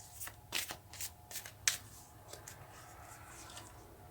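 Tarot cards are shuffled close by in a series of soft riffling and flicking bursts, with one sharper snap partway through. The sound is quiet and fades into faint hiss.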